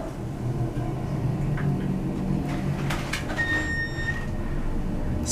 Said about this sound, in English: Look at that. Listen to it go down.